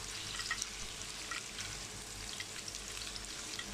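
Sausage dropped into a pan of wilted onions sizzles and crackles steadily up close, a dense, even frying hiss throughout with small pops.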